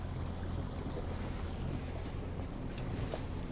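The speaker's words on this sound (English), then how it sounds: "So now you've seen, we've just driven, I don't know, 200 meters off dock." An Axopar 22 Spyder boat moving across open water near a dock, with a constant wash of hull spray and waves mixed with heavy wind buffeting, no voices.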